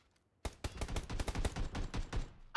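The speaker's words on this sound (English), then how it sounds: "I'm getting shot from behind." Rapid bursts of gunfire from PUBG (PlayerUnknown's Battlegrounds) erupt suddenly after a brief quiet, a dense run of loud sharp shots lasting about two seconds.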